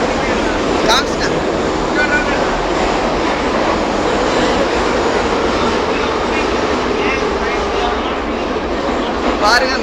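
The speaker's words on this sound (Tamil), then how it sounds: "பாருங்க மெட்ரோ எவ்வளோ நீளமாக வேகமாக போகுதுன்னு" A long metro train speeds past in a steady, loud rolling roar that fills the whole stretch, with faint voices in the background and brief high squeals near the start and end.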